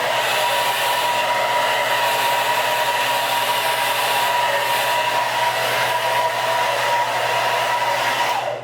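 A hair dryer runs steadily and loud for the whole stretch, a constant close whooshing blow with a faint whine, blow-drying hair, with no speech.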